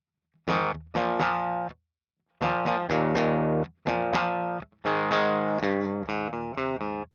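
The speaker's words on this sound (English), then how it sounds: "I have my Les Paul plugged into my divided by 13. Just clean settings here so we can hear what the amp sounds like on its own." A Les Paul electric guitar played through a Divided by 13 amp on clean settings, with sustained strummed chords and short phrases separated by brief pauses, full and close without any talking.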